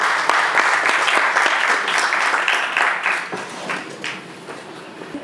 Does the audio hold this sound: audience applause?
yes